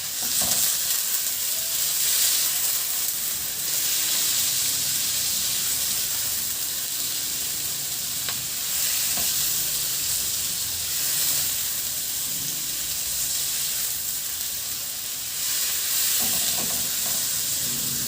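Onion and tomato fry in a hot pan with a steady, loud sizzle and hiss throughout, with occasional stirring scrapes breaking through the constant crackle.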